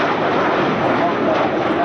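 An Avro Vulcan B2 bomber passes overhead at the Bournemouth Air Festival, a dense, loud, unbroken jet roar filling the short span while a commentator speaks over it.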